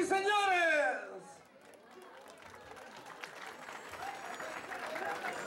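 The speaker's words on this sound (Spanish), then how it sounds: "¡Y el aplauso, señoras y señores!" Crowd at a bullfight in the ring applauding after an announcer's voice fades, a steady wash of clapping and murmuring chatter that builds slightly toward the end.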